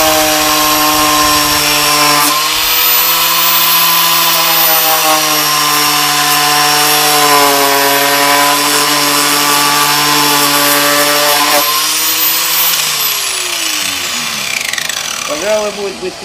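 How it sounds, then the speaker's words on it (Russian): An angle grinder cuts into extruded polystyrene foam insulation boards, a loud steady high whine held for about twelve seconds before winding down. "Ну вот болгаркой попробовали, она немножко не дорезает"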